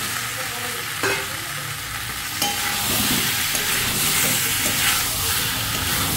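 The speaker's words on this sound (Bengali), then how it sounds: "এবার এর মধ্যে আলু দিয়ে দেবো" Potatoes stirred into mutton frying in a pan, a continuous close sizzle with scraping stirs and a few clinks of the utensil against the pan.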